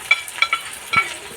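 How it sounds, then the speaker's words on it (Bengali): Onions dropped into hot oil already seasoned with bay leaves, cardamom and cinnamon, giving a few short crackling sizzles and stirring scrapes, close and fairly quiet, with no talk. "একই তেলে আমি পেঁয়াজগুলো দিয়ে দিচ্ছি।"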